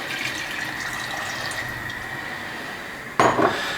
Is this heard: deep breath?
no